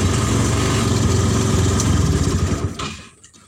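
A small car fitted with a motorcycle engine labours loudly up a bridge incline, its engine note pulsing rapidly and steadily before fading sharply near the end.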